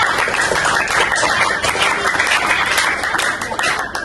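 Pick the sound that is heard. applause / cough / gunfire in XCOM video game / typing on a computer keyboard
applause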